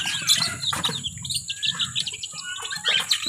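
Pet canaries chirp and tweet in a homemade wire bird cage, a dense overlapping chorus of bright, quick calls close by with occasional wing flutters.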